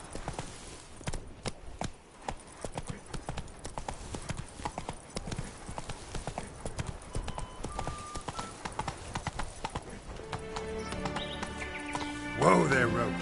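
Roach, Geralt's horse in The Witcher 3, trots with a steady clip-clop of hooves over a low ambient game soundscape, and near the end a brief whinny-like flourish rises against the footfalls.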